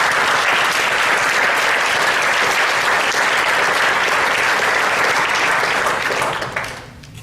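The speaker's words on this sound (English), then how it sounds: "So let us give him a warm applause for this wonderful work." Audience giving warm applause at an educational institution gathering, a loud steady wash of clapping sustained for about six seconds before fading out.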